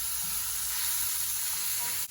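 Whole spices, cumin, coriander and cloves, stirred in a hot pan, giving a steady, close, loud sizzle that ends with a sharp click.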